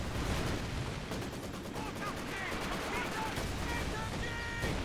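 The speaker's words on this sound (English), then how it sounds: "Incendiary mortar barrage onto the mortar." Mortar barrage and gunfire in the Company of Heroes 2 video game, a dense, continuous rumble of distant explosions and rattling shots that fills the whole stretch, with a voice talking over it.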